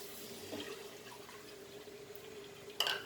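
Milk is poured slowly into a pan of cashew nuts roasted in ghee for a chocolate cashew modak, giving a faint, steady liquid trickle with a small splash near the end.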